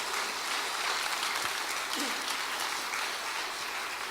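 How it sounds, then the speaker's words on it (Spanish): A church congregation applauds during a sermon, giving steady, even clapping heard alone, fairly faint and distant, with no pause for its few seconds. "Denle un aplauso"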